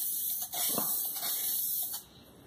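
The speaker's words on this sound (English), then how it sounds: "That's how this spray can does." A rattle can of spray paint hisses in a continuous burst lasting about two seconds, close by, with a brief break early on, while painting 4x4 Blazer wheels.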